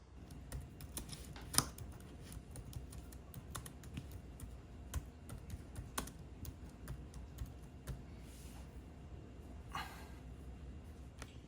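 Quiet, irregular keystrokes on a laptop keyboard clatter across the stretch, with sharper clicks scattered among softer taps and a low room hum underneath.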